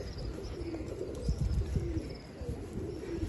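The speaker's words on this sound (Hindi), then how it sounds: "ये फ़कीर गुल कबूतर हैं" Soft, low pigeon cooing from Fakir Gul pigeons in a rooftop loft, close and continuous with faint chirps around it.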